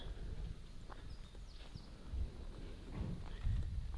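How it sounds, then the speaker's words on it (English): Hooves of a baby horse clip-clopping on a country farm, a soft irregular patter of steps close by over low rustling, with no talk. "Little baby horse."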